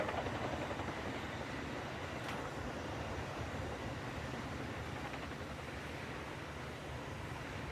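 A military helicopter manoeuvring at the Farnborough International Airshow, a distant, steady rotor and engine rumble with broad wind-like noise, fairly faint and continuous.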